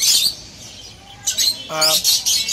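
Lovebirds at home chirping in short, bright bursts, a few sharp tweets and squawks close by with brief pauses between them.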